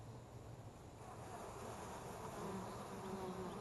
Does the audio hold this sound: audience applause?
no